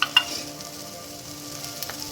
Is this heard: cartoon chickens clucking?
no